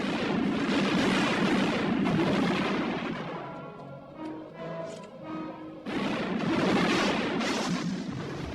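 Artillery cannon fire booms in dense, rumbling bursts, broken by a quieter stretch of sustained tones before the heavy blasts return.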